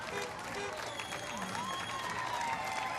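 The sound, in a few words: crowd applauding at parade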